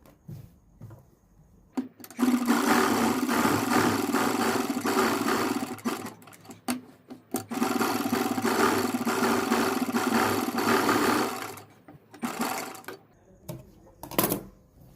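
A sewing machine stitches a decorative neck design on a suit with anchor thread, its motor running loud in two long bursts, about four and five seconds each, with short pauses and small clicks between.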